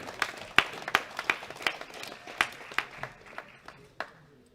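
Scattered claps from a small audience at a junior world classic powerlifting championship bench press medal ceremony, a dozen or so sharp, uneven hand claps close by and fading out, with no voices over them.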